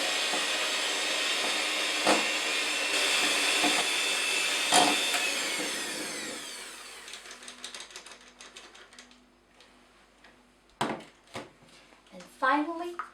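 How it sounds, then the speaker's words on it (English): Flour being mixed into plain biscuit dough by hand, a steady scraping and rubbing for several seconds that then thins into scattered soft knocks and clicks of the bowl and spoon. "Now I'm adding in the flour. And we're going to mix it in."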